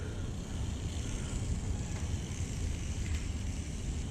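A WL Toys 6401 mini RC car runs at full throttle, giving off a continuous buzzing motor whine mixed with rolling road noise, steady and fairly close, with no talking.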